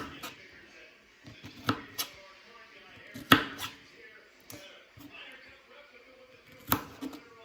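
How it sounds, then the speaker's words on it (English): Knife slicing fresh strawberries into quarter-inch slices on a cutting board, with a series of sharp taps and thuds at irregular intervals, some louder than others, close up with faint background noise. "I just cut up all of our strawberries about 1/4 of an inch thick in slices."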